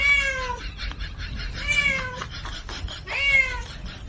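A cat meows three times with pauses between, each cry rising and falling, fairly close against a quiet background.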